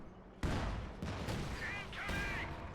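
Gunfire strikes a Panzer headquarters during a Company of Heroes 2 1v1 match on Mill Road. Several sharp, loud blasts and rattling shots ring out amid the ongoing din of battle.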